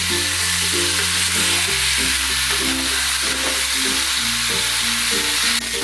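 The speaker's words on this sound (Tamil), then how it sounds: "ஜஸ்ட் அப்படியே ஃப்ரை ஆகட்டும் அந்த வெள்ளி அந்த ஒரு ஒரு கிழங்கு பீஸ்னுடைய அந்த அவுட்டர் கோட் நல்லா ஓரளவுக்கு கிறிஸ்பியாக வருதுங்க" Potato pieces fry in hot oil until their outer coat turns crisp, a steady broadband sizzle holding loud and close throughout, with low humming tones underneath and no talking.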